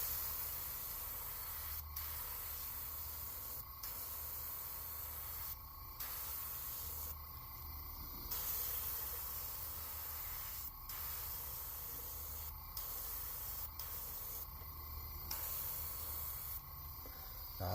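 An airbrush sprays pearlized white paint onto a Megabass Vision 110 fishing lure, a close, steady hiss broken by short pauses between bursts.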